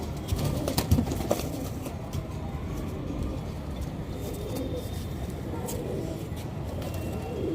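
A captured pigeon coos low and steady amid noisy outdoor ambience with distant traffic, with a few louder handling bumps early on.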